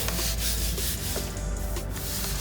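Steady abrasive rubbing of sandpaper on a hardwood floor, sanded by hand, continuous and close, with rhythmic back-and-forth strokes and no voices.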